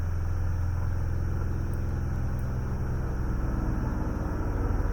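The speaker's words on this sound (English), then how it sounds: "now it sounds like there's a helicopter" A helicopter flying outside a house, a steady low droning rumble with a faint rhythmic beat that holds constant and fairly loud throughout, with no talking.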